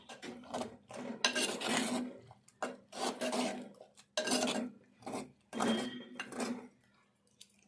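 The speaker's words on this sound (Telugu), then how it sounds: "ఇది మట్టి కుండ కాబట్టి మెత్తగా అవుతుంది. ఇట్లా కలుపుకోవాలి." Tomato and brinjal curry is stirred in a clay pot, a spoon scraping and rubbing the pot in a rhythm of short, close strokes with brief pauses between them.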